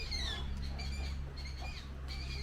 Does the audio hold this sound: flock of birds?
yes